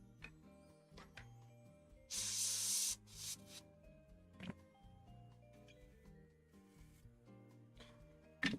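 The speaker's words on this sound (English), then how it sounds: "All I need to do really is just airbrush the white anyway." An airbrush sprays white paint onto a Kill Team miniature in one steady hissing burst of about a second, close by, between softer brief hisses, with quiet background music underneath.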